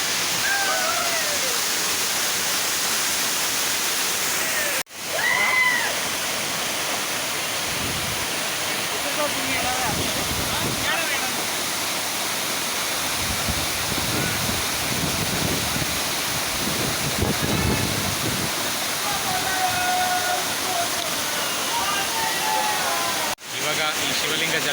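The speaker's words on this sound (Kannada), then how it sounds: "ಶಿವಲಿಂಗ ಜಲಪಾತ." Shivling waterfall in Goa during the monsoon roars as a loud, continuous rushing wash of falling water, close by, with faint voices of people mixed in.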